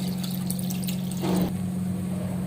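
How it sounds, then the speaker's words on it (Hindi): Water poured into a cooking pot with chicken before boiling, a short splashing pour of about a second heard over a steady low hum. "इसमें हम पानी डाल देंगे तो इसे उबलने के लिए छोड़ देंगे कुछ देर"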